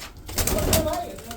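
Breeder pigeons, one of them Pakistani, give a short, soft coo that rises and fades at close range, while someone talks over it.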